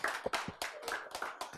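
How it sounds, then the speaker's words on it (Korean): An audience claps in unison with quick, evenly timed handclaps in a short rhythmic burst, fairly close and crisp. "또 오늘은 박수 제 시간 딱 치네"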